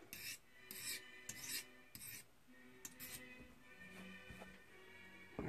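A steel knife blade is drawn across a sharpening stone in a series of quiet, rhythmic rasping strokes, roughly eight passes with short pauses between them.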